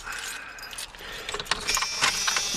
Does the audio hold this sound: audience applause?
no